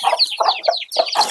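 Village chickens, including a fighting rooster, clucking in quick, loud bursts close by, several overlapping calls in an uneven rhythm.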